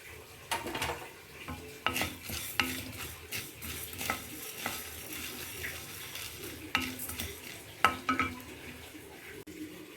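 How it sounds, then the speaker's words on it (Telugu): Peanuts and cumin roast dry in a pan as a spoon stirs them. Repeated scraping and light clinking strokes come at an irregular rhythm over a soft sizzle, close by and without talking. "ఇలా కమ్మటి వాసన వచ్చేదాకా వేయించి ఒక ప్లేట్లో తీసేసుకోండి"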